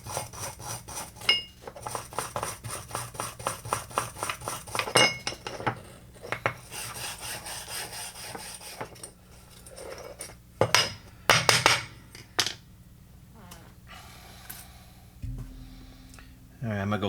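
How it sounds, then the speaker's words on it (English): Scraping corrosion from a WD-40-soaked part of a curb-found John Deere mower produces rhythmic metallic scratches and rasps, close and fairly clear, that thin out into sparse scrapes and taps. "We'll try to scrape as much of this corrosion as we can get out of here off."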